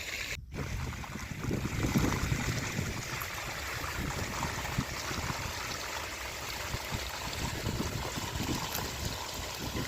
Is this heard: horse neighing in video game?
no